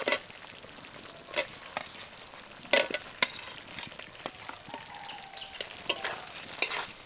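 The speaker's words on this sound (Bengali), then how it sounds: "এবার এই মশলার সাথে সবজিগুলোকে কিছুক্ষণ নেড়ে চেড়ে নেব।" Fried vegetables are stirred with spices and sour yogurt masala in a pan for bhoger khichuri, giving a soft sizzle with sharp scraping clicks of the spatula at irregular intervals, close and moderately loud, with no voices.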